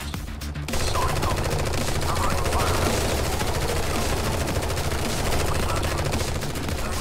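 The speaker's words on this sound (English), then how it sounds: "we're just using our MGs to clear the sector" Sustained machine gun fire from MGs in the tactical game Strain Tactics, a dense, unbroken rattle that stays loud and steady for several seconds after a brief quieter opening.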